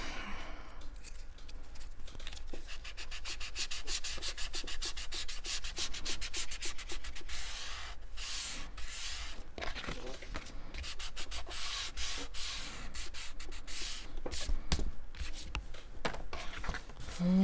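Sandpaper rubs steadily over a piece of furniture during a makeover, a dry rhythmic scratching of quick back-and-forth strokes that runs nonstop and fairly close, with no talking.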